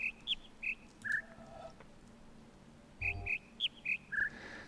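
Bird chirps inside a puzzle video game: short high tweets in two clusters, about six at the start and six more after a pause, fairly clear over a faint background hum.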